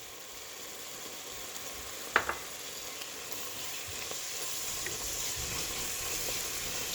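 Masala spices frying with softened tomatoes in a pan for egg masala curry, a steady close sizzle throughout with one sharp spatter or clink near the start and no talking.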